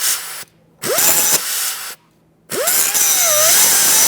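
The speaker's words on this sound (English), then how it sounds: "Now that we ground off the front side here" Cutting wheel grinding through a control arm bolt on a 2001-2005 Honda Civic, coming in two loud bursts with a rising whine as the wheel spins up and a short quiet gap between them.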